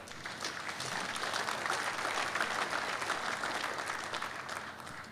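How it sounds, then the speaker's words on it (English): Steady, sustained applause from an audience, a dense wash of clapping that holds for several seconds without voices standing out. "Did I hear some applause?"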